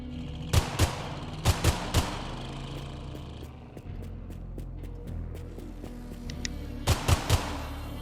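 AK rifle gunfire in the driving game Drive Beyond Horizons, short bursts of sharp shots in clusters of three or four, with a quieter gap of faint clicks and thuds between them.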